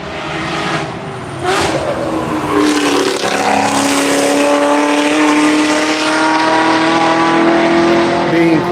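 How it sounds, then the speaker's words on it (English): A Camaro race car at a track roars past with a sustained engine drone that rises in pitch, loud and close, with faint crowd or announcer noise behind it. "And we got Justin in the Camaro"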